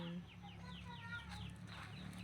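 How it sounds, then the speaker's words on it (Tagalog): Chickens cluck in a garden where mangoes have fallen, a series of quick, bright descending calls, faint and somewhat distant over a low steady background hum. "Ay, chicken."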